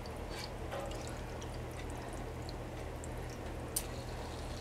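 Pet water fountain switched back on: a soft, steady trickle of running water with a low motor hum underneath, faint and continuous with an occasional small drip.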